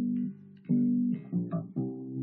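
Bass guitar plays the first bar of a beginner lesson phrase as a few short, clean low notes, some clipped staccato, with brief gaps between them and no talking.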